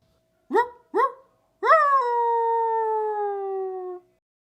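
A dog gives two short barks followed by one long, sustained howl that slowly falls in pitch, loud and close with no other sound.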